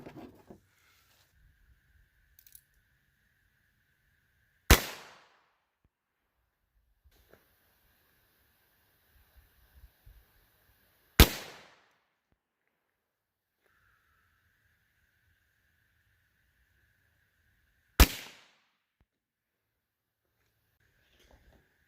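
Federal Punch .22 LR rounds fired into layered ballistic gel: three sharp, isolated cracks spaced several seconds apart, each with a brief decaying tail, over a quiet background with a faint steady hum.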